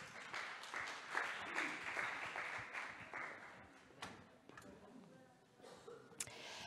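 Audience applause at a sports performance neuroscience talk, steady, moderately distant clapping from a seated crowd lasting several seconds, with a few sharper claps standing out.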